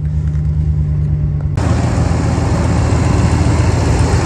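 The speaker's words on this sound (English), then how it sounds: "The engine sounds very healthy." A used truck with about 106,000 miles idles at a lot, a loud, steady low engine rumble with a sudden jump to a broader, harsher roar partway through, close and with no talking.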